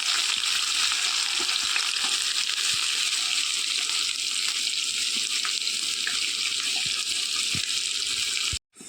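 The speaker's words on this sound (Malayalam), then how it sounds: "നമ്മൾ സവാള നന്നാക്കി വാട്ടിയെടുക്കുക." Sliced onions sauté in a pan for fish curry with a continuous bright sizzle and occasional stirring scrapes. The sound is close and even, then cuts off abruptly near the end.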